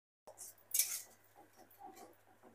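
A spoon stirring spice paste loosened with water in a pan: a sharp metallic clink early on, then quiet, scattered scrapes and taps.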